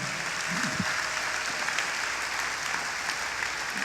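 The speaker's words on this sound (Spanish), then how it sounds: "Denle el aplauso al Señor." A church congregation applauds during a sermon, a steady, roomy wash of clapping carrying on throughout, with a brief voice at the start.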